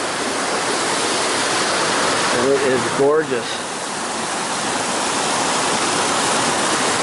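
Horse Pasture Creek on a forest trail rushes in a loud, continuous broadband wash of flowing water, with someone speaking briefly over it.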